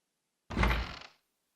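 A door opens in the Octopath Traveler video game, a single short muffled thunk and slide that ends after about half a second, alone in near silence.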